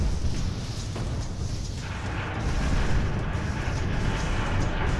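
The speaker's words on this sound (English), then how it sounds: "That's a lot of explosions." Continuous heavy rumbling explosions fill a battle scene in the video game Ni No Kuni II, with dense booming blasts layered over one another and swelling louder midway, no talk over them.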